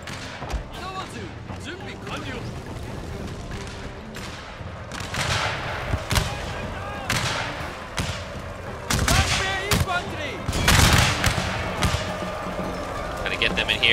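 Soldiers trading gunfire in a video game battle, steady crackling volleys and repeated heavy thumping shots over nearly fourteen seconds, loud and continuous, with someone talking over the fighting.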